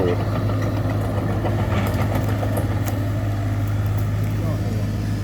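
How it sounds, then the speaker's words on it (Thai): A homemade mower mounted on a Kubota KX91-3 mini excavator cuts grass and coconut fronds, its engine running steady and loud with a constant droning hum and faint rattles throughout. "ตัดหญ้าไปได้เร็วมาก เลย ครับ"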